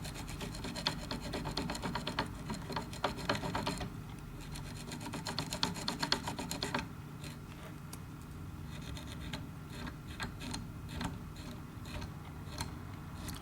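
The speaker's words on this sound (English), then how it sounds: "take my Velcro brush and just comb out the belly of this fly" A Velcro brush combs out the belly of a tied Booby dragonfly nymph fly, making a steady close-up rasping scratch that repeats in quick, even strokes for the whole stretch.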